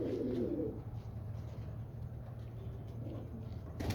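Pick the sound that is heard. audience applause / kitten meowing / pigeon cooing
pigeon cooing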